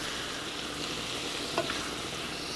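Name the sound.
chicken cooking in a pan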